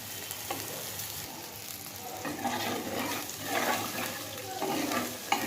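Spice paste (masala) fries in oil, heard up close as a soft, continuous sizzle broken by repeated scraping strokes of a stirring spoon, while a tilapia fish curry is being prepared.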